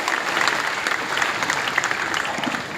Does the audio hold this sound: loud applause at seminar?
yes